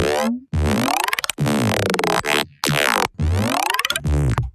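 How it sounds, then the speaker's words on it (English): Zippery, metallic dubstep synth with bandpass filter formant and bandwidth swept together, heard loud and solo as a series of rising, buzzing bursts with short breaks between them. "It's zippery and it's metallic."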